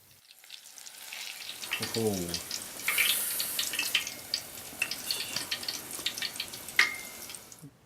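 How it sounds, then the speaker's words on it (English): Carrot thinnings fry in tempura batter, giving a steady crackling sizzle with small sharp pops, close and continuous; a voice briefly speaks near the start. "Toru and I fried the thinnings up in a tempura batter"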